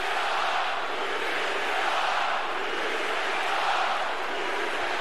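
Lakers arena crowd roaring during a fight between Chris Paul and Rajon Rondo in a Rockets vs Lakers game, a dense, continuous loud roar of shouting and booing that holds steady with no break.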